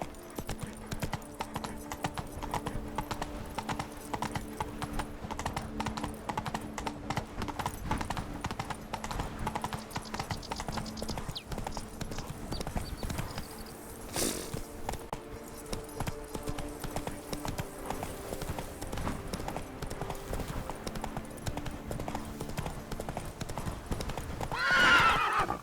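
A horse gallops in The Witcher 3 video game, its hooves drumming in a steady, continuous rhythm at moderate volume throughout, with a brief whinny-like call near the end.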